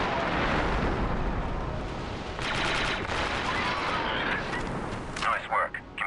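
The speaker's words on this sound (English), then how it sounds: "We just set off an enormous explosive device" An enormous explosive device detonates in Republic Commando with a loud, dense, crackling roar of blast and debris that holds for several seconds, then breaks up into scattered bursts and clanks near the end.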